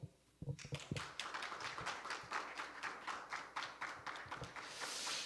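A brief round of clapping after a lecture, a small group applauding with quick overlapping claps that thin out toward the end, no voices.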